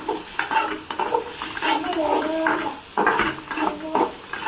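Spices being stirred in a hot pan while making Maggi noodles, with a steady scraping of a utensil against metal and a soft sizzle underneath, close and moderately loud with no talking.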